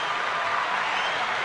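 A roaring crowd applause sound effect, a dense steady wash of clapping and cheering held at an even loudness for a short burst, with no talking over it.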